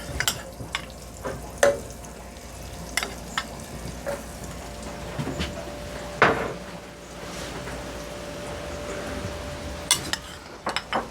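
Garlic frying in a pan as part of a Providencia black crab with bami dish gives a steady close sizzle. Occasional sharp clanks and scrapes of a utensil against the pan come through, with no talking.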